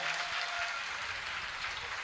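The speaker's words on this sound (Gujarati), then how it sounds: "એમને પણ ફરીથી હજી જોરદાર તાળીઓથી વધાવો" A live music show crowd claps to honour the accompanying musicians, a fairly faint, even wash of applause heard from a distance with no voices over it.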